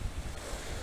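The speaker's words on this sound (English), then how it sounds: "Although it's windy as hell," Strong wind buffets the microphone beside a lake near Interlaken, Switzerland, making a steady, loud, rumbling roar with no other sounds.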